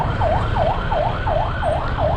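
An ambulance siren on the road wails in rapid repeating rising-falling sweeps, loud and close over a low engine rumble, with no talking.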